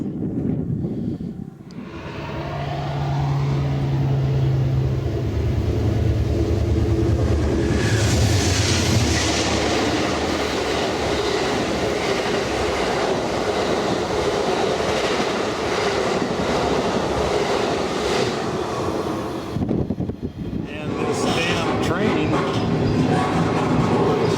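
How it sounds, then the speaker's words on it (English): A freight train rolls past nearby on the Hi Line with a continuous rumbling roar and rattling cars, a low horn-like tone early on, then fades abruptly near the end. "I'm hoping this is the last train coming past us"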